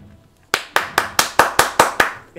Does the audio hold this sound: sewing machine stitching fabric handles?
no